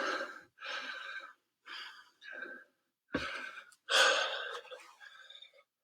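Heavy, ragged breathing during a home workout before planks, a series of loud close gasps and exhales in uneven bursts separated by brief silences.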